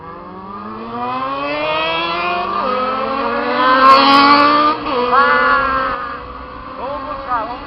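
Several Yamaha XJ motorcycles, two 600cc and one 1000cc, rev loudly at night, engine pitch sweeping up and down in overlapping rising and falling tones with a peak surge midway.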